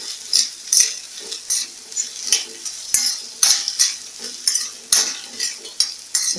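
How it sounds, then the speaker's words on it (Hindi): Potatoes, capsicum and finely chopped cabbage stirred together in a hot pan for a vegetarian dish, giving a steady sizzle of frying with repeated scraping strokes of a spoon against the pan, close and loud, with no talking. "ये देखिए अब हम इन सब को मिक्स करेंगे।"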